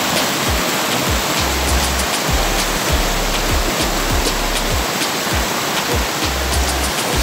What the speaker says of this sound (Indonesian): Ini adalah tingkat 2 ya, air terjun